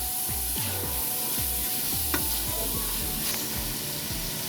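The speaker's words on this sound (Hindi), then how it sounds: "अब इसमें हम जो चॉप करा हुआ लहसुन अदरक फ्रेश था वो डालेंगे। इसको भी 1-2 मिनट जो है मिक्स करेंगे" Freshly chopped garlic and ginger hit a pan of frying meat for turnip curry, giving a steady close sizzle with a quick run of scraping spoon strokes against the pot.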